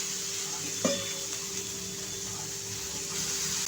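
Fenugreek leaves go into a hot pan for methi pithla, a short sharp sizzle burst as they land, then a softer continuous frying hiss with light stirring.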